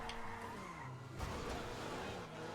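Tyres skid and squeal on a modified Apocalypse Issi car during an Arena War match in GTA 5 Online. A steady engine drone runs beneath a continuous, loud skid that lasts the whole stretch.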